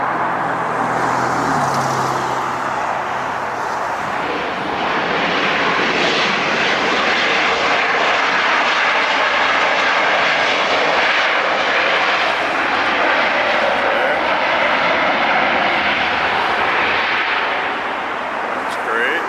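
A heavy jet airliner in Sky Team livery lands or takes off at LAX, producing a loud, sustained roar that swells and holds for nearly twenty seconds, with some talk faintly under the noise.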